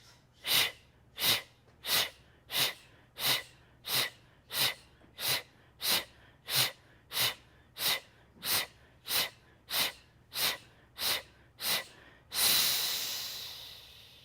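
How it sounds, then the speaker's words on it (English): Deep yoga breathing: a steady run of about eighteen strong, evenly spaced breath pulses, close and loud, ending in one long fading exhale, with no talking. "Inhaling."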